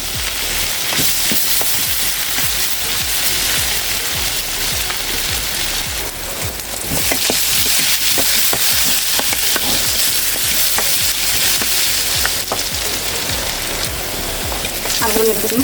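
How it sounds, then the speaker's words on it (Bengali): Potatoes fry in oil for a chicken curry, making a dense, continuous sizzle with rapid crackling pops and occasional stirring scrapes, close and loud throughout. "এখন আলুগুলো ভেজে নিব।"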